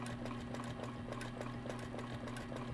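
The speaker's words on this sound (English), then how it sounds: "I'm going to stitch over to one side" A sewing machine stitching fabric, a steady mechanical hum overlaid with fast rhythmic needle ticks, close and continuous with no talk.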